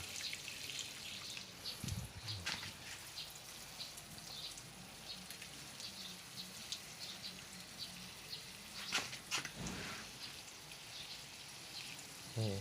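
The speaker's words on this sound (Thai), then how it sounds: "ให้น้ำไหลออกก้นกระถางไปเลยครับ" Water trickling and dripping out the bottom of a plant pot holding a variegated Alocasia after watering, a steady close patter of drops with a couple of louder splashes and no talk.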